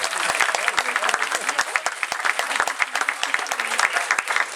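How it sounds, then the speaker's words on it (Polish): Audience applause at an improvised cabaret show, dense clapping from a crowd, loud and sustained throughout with some voices mixed in. "Wielkie brawa."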